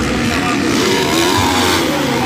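A 250cc motocross bike races on a dirt track, its engine revving hard and loud throughout, mixed with other bikes and crowd noise.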